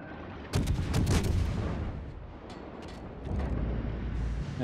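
Naval gunfire from warships in World of Warships, with heavy booming salvos and crackling blasts that rise sharply, fade, and then swell again with a deep rumble, loud and alone.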